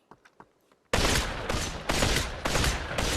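A burst of rapid AK assault rifle fire in the VR game Population One, loud and close, with repeated punchy shots after a few quieter clicks.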